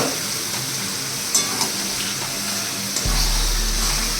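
Fish dropped into hot oil and well-fried spice paste in a pan for a spicy Bombay duck (lote fish) dish, giving a steady close sizzle with a sudden louder burst of frying near the end.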